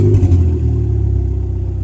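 A turbocharged Honda Civic with an eBay Emusa turbo kit, already warm, cranks and settles into a rough idle, a loud low rumble with slight clatter and no O2 sensors connected.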